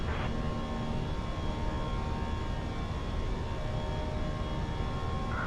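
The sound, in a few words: American Airlines jet climbing after departure from Dallas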